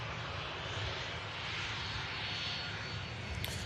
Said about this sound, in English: EasyJet from Paris, Charles de Gaulle about to land.